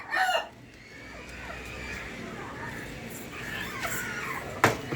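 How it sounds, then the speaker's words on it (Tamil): Chickens in a native-breed coop in Chennai, with a rooster's faint crowing and scattered hen clucks over a noisy outdoor background and a sharp knock near the end. "மேல ஒரு சேவல், அது கூட ஒரு பெட்டை கோழி இருக்கு."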